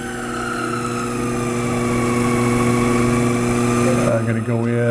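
Pen-making machine spindle spun up to 1500 RPM, a steady, loud mechanical hum with a constant tonal drone and whir, running continuously and shifting slightly in tone near the end.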